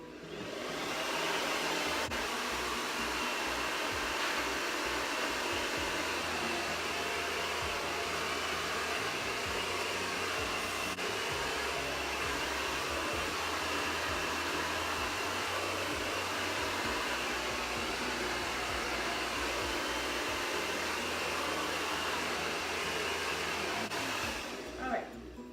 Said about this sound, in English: So I feel like it's gonna be too hard to like blow dry, so I'm just gonna dry them a little bit more.